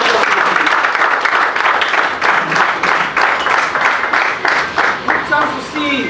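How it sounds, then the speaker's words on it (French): Loud audience applause at a celebration event, a packed crowd clapping hard and continuously with a slight rhythmic pulse and voices faintly underneath. "On peut applaudir."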